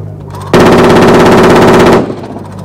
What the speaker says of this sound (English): Now we show the gun firing in the low rate.